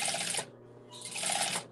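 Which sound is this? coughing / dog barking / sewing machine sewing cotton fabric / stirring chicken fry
sewing machine sewing cotton fabric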